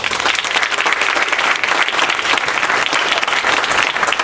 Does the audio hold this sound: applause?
yes